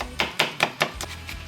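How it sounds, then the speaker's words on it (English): A knife chops garlic on a cutting board in a steady series of about six quick, crisp strikes, close and even-paced. "I'm chopping garlic for the soup"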